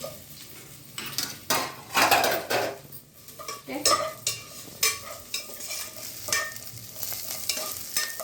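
Green chillies and carrot pieces stirred in a frying pan for a mushroom biryani, with repeated scraping and clinking of a utensil against the pan over a soft sizzle, close and fairly loud in uneven strokes.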